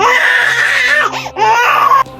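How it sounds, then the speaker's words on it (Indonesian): A baby cries loudly with an echo, wailing in two long sobbing bursts with whimpering breaks between them, close and reverberant over a low, steady hum. "Suara tangisan bayi bergema."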